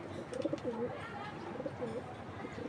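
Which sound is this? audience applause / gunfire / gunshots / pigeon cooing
pigeon cooing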